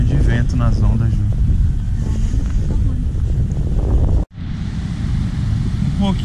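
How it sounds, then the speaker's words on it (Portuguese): Wind buffets the microphone at a surf beach, with ocean waves rolling underneath and people talking throughout. The sound drops out briefly before the rushing wind returns. "Parece que tem um pouquinho de vento nas ondas, Ju."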